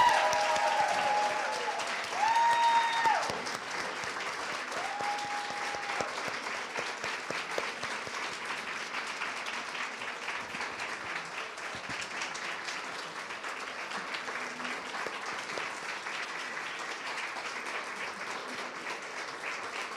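Sustained audience applause at an award celebration honoring environmental and health advocates, a broad steady wash of many hands clapping for the full stretch, with a few faint tones and murmurs early on.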